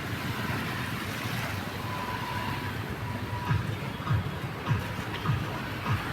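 Constant roar of an overflowing flooded river fills the scene, broad and steady, with occasional low surges and wind buffeting the microphone.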